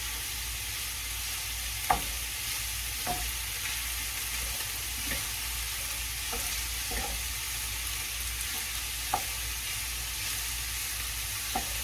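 Italian sausage browns in a pan for a manicotti and stuffed shells dish, giving a steady soft sizzle with a few sharp clicks of a utensil scattered through it and no voices.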